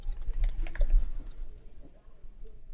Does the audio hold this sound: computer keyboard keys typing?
yes